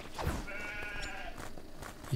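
A sheep in the Craftopia video game lets out one drawn-out, wavering bleat mid-clip over a faint steady background, with a short soft thump near the start and end.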